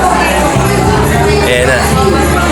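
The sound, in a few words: noisy crowd outside a school at a relief goods handout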